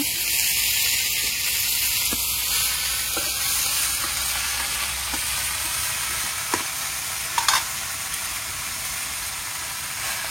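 Red amaranth leaves tossed into a pan of fried garlic, a loud steady hissing sizzle lasting throughout, with occasional soft scrapes and clicks of stirring, no talking.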